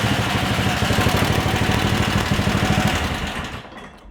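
The engine of a street-legal golf cart runs through its muffler at close range, a steady rapid putter that stays even for about three seconds and then drops away.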